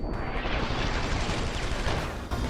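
Heavy, continuous gunfire and rumbling blasts from a boss fight in the video game Deus Ex: Human Revolution blur into a loud, dense roar of shooting that stays steady throughout, with no voices.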